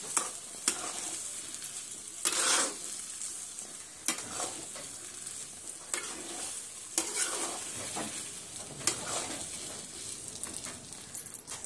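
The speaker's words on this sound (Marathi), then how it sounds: "पाच मिनिटं याला हलवून घ्यायचं, म्हणजे सर्व साखर आपली विरघळेल।" Spoon stirring sheera (semolina pudding) with sugar in a pan, giving a continuous soft sizzle broken by regular scraping strokes about once a second, close up and without talk.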